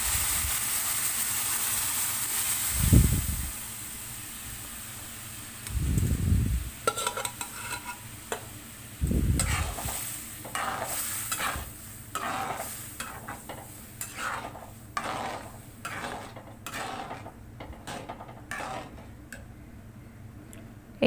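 Dal being fried and stirred in a pan for Mati Dail Khar: repeated scraping strokes of a spatula against the pan over a steady sizzle, with a few heavier scoops early on, close and alone without talk.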